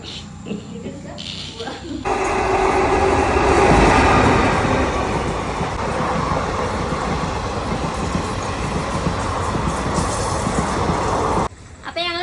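A train rumbles loudly and steadily through a railway station for several seconds, with a dog barking and people talking faintly in the background.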